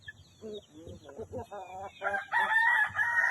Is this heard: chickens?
yes